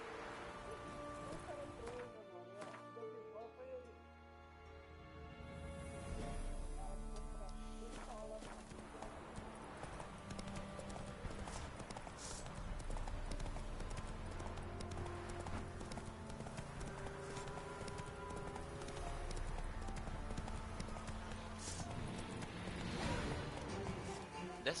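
Horse hooves clip-clop steadily in The Witcher 3, a continuous rhythmic trot under game music and noise, with someone talking over it.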